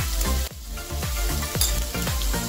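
Ridge gourd peel frying on a low flame with salt and turmeric, a steady close sizzle broken by rhythmic scraping strokes of stirring in the pan, with no voices.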